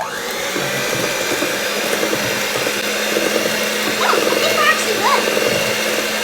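An electric mixer whirs steadily as flour is mixed into hamentaschen dough, a continuous motor drone at close range while a person talks over it.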